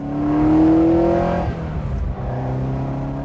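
A Ferrari 308 with an intermittent ignition fault pulls away on a test drive, its engine revving loudly up close before easing off to a lower, steady drone.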